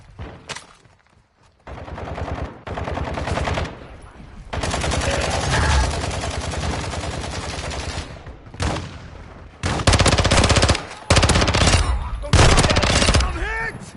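Heavy automatic gunfire in Call of Duty Modern Warfare 2 DMZ, long loud bursts broken by short pauses, close and intense, with a radio voice and shouts in between.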